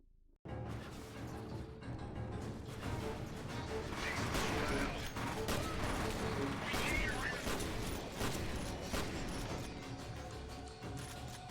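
Shotgun fire in F.E.A.R. Extraction Point, heavy blasts and crashing impacts in a continuous dense barrage, loud and close, with talking over it.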